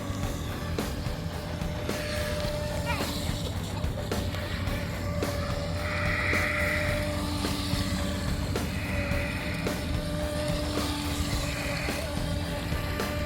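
A DeeRC 816 brushless RC boat motor whines steadily at a distance over constant outdoor background noise, with a few rising pitch sweeps as the throttle changes.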